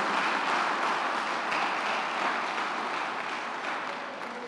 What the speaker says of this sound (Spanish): Tribútale un aplauso con gozo al Señor